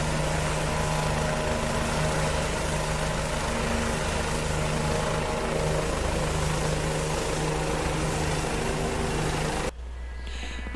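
A Bell 429 helicopter in the X-Plane 11 flight simulator drones loudly and steadily with a constant turbine and rotor hum, then cuts off abruptly near the end.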